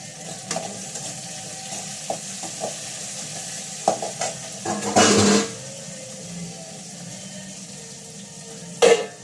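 Curry leaves and tomato in hot oil, with soft stirring and scraping in a pan, a brief loud burst of sizzling midway and another sharp sizzle near the end, close by and without speech.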